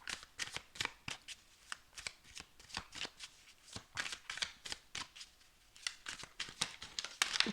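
Deck of oracle cards being shuffled by hand in a quiet room, a rapid string of soft, crisp riffling slaps repeating steadily throughout.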